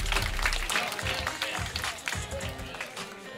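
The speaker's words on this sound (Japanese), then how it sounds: "勝者クラッシュ、シャミスにも大きな拍手を。" Audience clapping after a rap battle judgment, steady and moderately loud across a few seconds, mixed with crowd noise and some tapping.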